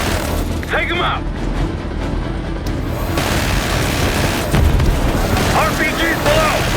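Call of Duty Black Ops 6 combat rumbles with booming explosions and crackling gunfire, and shouted voices cut in over the din.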